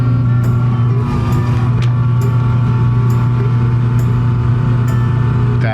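A BESWOOD 10-inch electric slicer with a chromium-plated carbon steel blade runs while slicing provolone cheese into 2 mm slices. Its loud, steady motor drone continues throughout, with faint ticks recurring roughly once a second.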